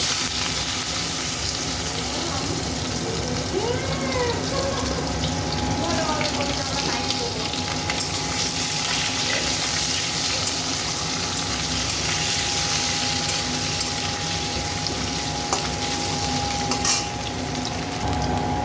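Potatoes fry in oil with panch phoron, bay leaf, dried chilli and ginger, giving a loud, steady sizzle with occasional stirring, close up and continuous, and a voice talks briefly over it.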